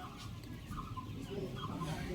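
Soft, continuous peeping of a group of two-day-old ducklings, faint and close, with a low murmur of background noise.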